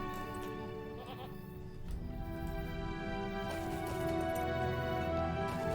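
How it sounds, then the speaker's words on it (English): A goat or sheep in the game The Lord of the Rings Online bleats repeatedly over a dense game soundscape with music, the calls clear and fairly close. "I hope that was a goat and not a sheep."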